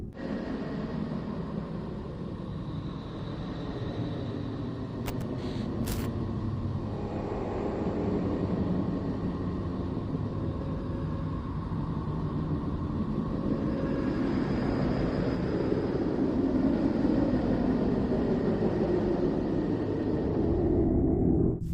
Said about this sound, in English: This nervous, calm noise, resembling the sound of the sea breathing or a distant airplane,